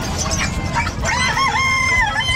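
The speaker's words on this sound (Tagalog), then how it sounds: "Anong manok po yan, Kuya Bobet?" A small bantam rooster gives a single crow close by at an animal market, its call rising and wavering over a couple of seconds.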